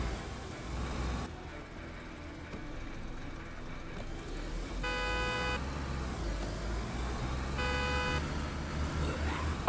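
A car engine in the video game DayZ idles with a steady low rumble, joined twice by short bright tonal chimes; no one speaks.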